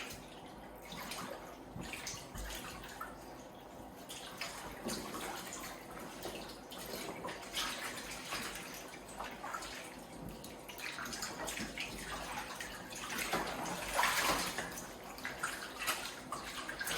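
Water running into a bathtub to soak a Louis Vuitton handbag, a soft continuous splashing and gurgling stream, fairly quiet and uneven with a brief louder surge, and no one talking.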